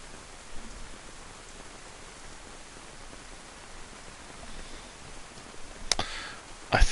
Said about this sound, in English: It's raining hard, isn't it?